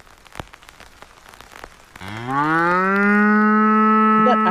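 A sound-designed cow moo for the video game Pathologic 3 starts midway as a loud, long, sustained low moo, following a stretch of soft crackling patter like rain, with no voices.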